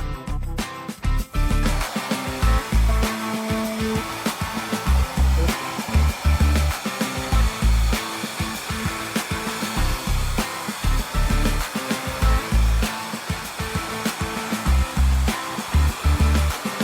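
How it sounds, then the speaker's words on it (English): A hair dryer blowing on chalk paint roars steadily and close up for a long stretch, its airflow pulsing slightly as it is moved around. "I'm doing the same thing with the hairdryer, but differently."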